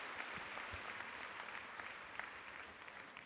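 Audience applause at an expert panel on Indonesia's 2011 outlook, a steady wash of many clapping hands filling the room without a break, fairly faint and even throughout.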